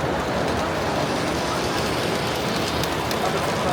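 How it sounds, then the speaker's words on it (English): A model train rumbles steadily along an urban circus-themed model railroad layout at a train fair, a dense continuous rolling noise blended with crowd murmur. "Comes a train."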